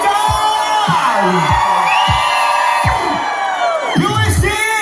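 A concert crowd at a live show cheers and screams, with loud sustained shrill whoops and yells from many voices and a dense roar underneath, close and continuous.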